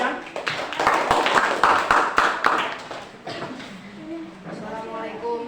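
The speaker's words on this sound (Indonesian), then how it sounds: "Kasih tepuk tangan dulu untuk Priyansa Alfian" An Indonesian classroom applauds a student named Priyansa Alfian with a brief burst of clapping that fades as a voice begins speaking.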